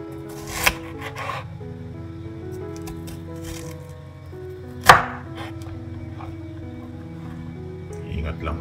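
Knife slicing beef on a cutting board for bistek tagalog, two distinct firm chops about four seconds apart amid quieter cutting and scraping, with someone talking over much of it.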